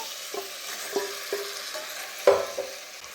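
Washed country chicken pieces hit a pan of frying onion and ginger-garlic paste, giving a soft sizzle broken by a few distinct stirring scrapes and clinks, the loudest near the end, with no one talking.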